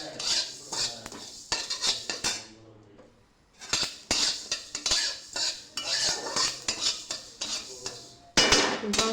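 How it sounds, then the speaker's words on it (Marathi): White sesame and poppy seeds dry-roast in a wok, stirred with a metal utensil that scrapes and clinks against the pan in irregular bursts, close and fairly clear, with brief pauses between strokes. "आता आपण पांढरे तीळ आणि खसखस कढईमध्ये घालून छान अशी भाजून घेऊयात।"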